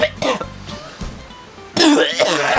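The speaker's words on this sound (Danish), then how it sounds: "Hver gang jeg trækker vejret for at hoste, så suger jeg bare mere af det her kanel" Coughing fits from someone who has swallowed a spoonful of ground cinnamon, several harsh, rapid coughs and throat-clearing bursts up close, getting louder toward the end.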